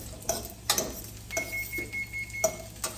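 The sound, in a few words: oven timer beeping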